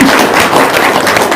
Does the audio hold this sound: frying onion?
no